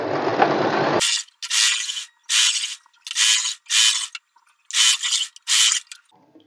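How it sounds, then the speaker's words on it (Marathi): Sewing machine stitching a fabric seam on a salwar, several short bursts of fast mechanical clatter with brief pauses between them, close and clear after an opening moment of other sound. "तर आता आपण दाब शिलाई मारून घेऊया पहिलं स्टिच करून"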